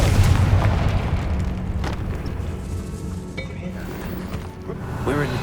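A Confringo spell blast from the Hogwarts Legacy video game goes off with a deep, booming rumble that fills the scene and slowly fades into low echoing ambience.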